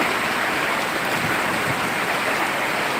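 Rain falls in Sirajganj after a spell of intense heat, a steady, dense hiss of drops that stays at an even loudness throughout, with no other sounds standing out.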